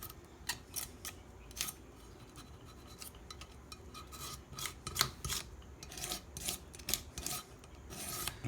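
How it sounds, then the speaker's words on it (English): Razor blade scraping across a Polaris Ultra 680 snowmobile engine case during rebuild prep, a close, repeated rasping in short irregular strokes with brief pauses, no voices. "just take the blade and just go across it, and what you can do is using a scraping motion"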